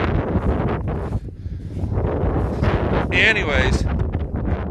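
Strong winter wind on a cattle farm roars and buffets the microphone in a steady, loud rush. Someone speaks briefly over it.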